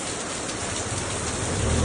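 Heavy rain pours down in a loud, dense, steady roar with no pauses, close by and alone.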